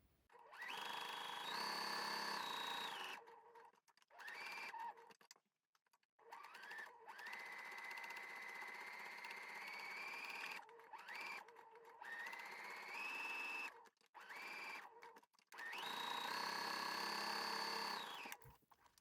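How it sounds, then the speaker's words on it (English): A sewing machine stay stitching along a curved keyhole neckline cut across the fabric grain, running in several sustained whirring bursts separated by short stops, close and clear with no voices. "First thing you want to do is to stay stitch the neckline, especially around this curve where you've cut across the grain of the fabric."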